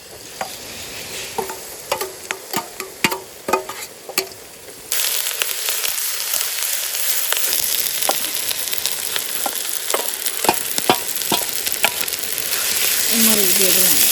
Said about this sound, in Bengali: বাটা মশলাগুলো সব দিয়ে দিচ্ছি।